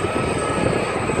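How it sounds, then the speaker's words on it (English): A helicopter passing over an air show, heard as a steady, loud broadband engine and rotor roar that holds constant throughout, with no voices. "Yeah, another helicopter."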